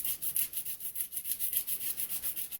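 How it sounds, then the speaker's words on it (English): Sandpaper roughing up a piece of plastic tubing for docks on RC boat models, a close rhythmic back-and-forth scratching of about a dozen even strokes with no speech. "I'm going to just rough it up a little bit with sandpaper here"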